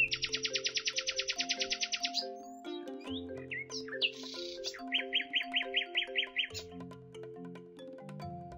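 A nightingale sings rapid trills and chirping phrases in repeated bursts over gentle background music.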